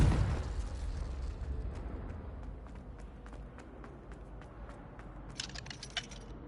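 A Confringo fire spell blast in Hogwarts Legacy, a sudden rumbling burst right at the start that fades into a low roar, followed by scattered small crackling pops and a brief bright crackle near the end.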